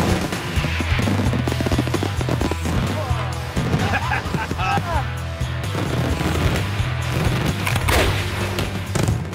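Daytime fireworks fired by a competing family clan, a rapid barrage of sharp explosive cracks and booms layered over a low, sustained musical drone, dense and continuous throughout.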